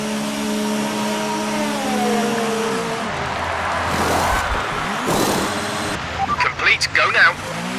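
Engine of an F1 car in the F1 2019 racing game, revving steadily as it accelerates, with gear-shift pitch sweeps, then a burst of harsher, choppier sounds near the end; a voice talks over it.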